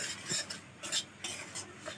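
Semolina being stirred and fried in ghee in a pan, with repeated scraping and clinking strokes of a spoon against the metal, close by, under a soft sizzle.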